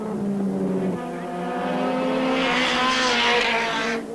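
Race car engine roaring at the Castellet circuit in 1988, a loud, close, sustained howl that rises in pitch as it accelerates, then cuts off sharply near the end.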